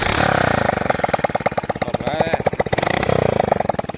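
Loud thumping idle of a Royal Enfield Bullet motorcycle engine, its steady beat close by and briefly revving in the middle.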